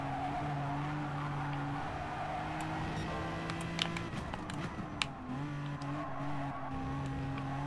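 In a racing video game, an Aston Martin at Monza loses rear grip, its engine droning in steady tones while tyres skid and squeal, with a few sharp scrapes in the middle.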